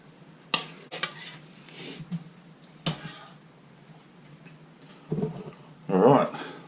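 A spoon clinks and scrapes as it scoops baked potato filling into hollowed potato skins, making a few sharp taps and a thicker scraping near the end, with a voice talking throughout.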